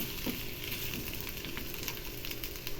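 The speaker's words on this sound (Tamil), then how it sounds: "இது நல்லா எண்ணெயிலேயே நல்லா இதை ஃப்ரை பண்ணிக்கலாம்." Eggplant fries in oil with a steady, faint sizzle and crackle that holds without pause. No voice is heard.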